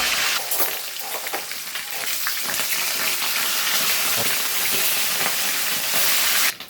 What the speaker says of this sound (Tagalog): Ara naton prituan mga bor butang ito diri sang mantika.